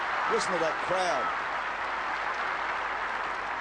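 A crowd at the 1975 Australian Open tennis match between Newcombe and Connors applauds in a steady, dense wash of clapping, with brief voices rising over it near the start.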